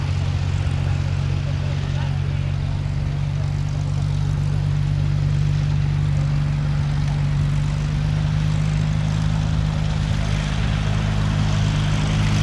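A Hawker Sea Hurricane's piston engine drones steadily through an air display at Old Warden, a constant loud hum that never lets up, with a commentator talking over it.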